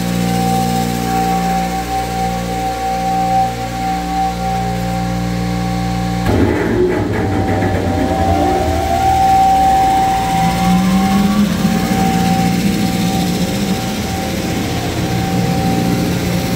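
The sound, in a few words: Thermwood CNC router and dust vacuum running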